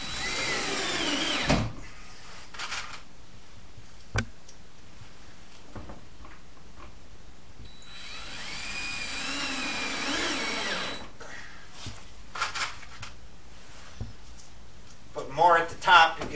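A power drill drives screws into the wooden galley of a teardrop camper under construction, running in a few short bursts and one longer whirring stretch, with quiet workshop pauses between them.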